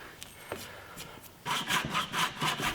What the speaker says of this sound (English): I cut this apart with a handsaw, hoping that would give me a cleaner cut than using the bandsaw.